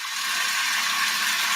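Close, loud sizzling of certified Piedmontese beef on a hot surface, a dense, constant crackling hiss lasting the whole moment without talk.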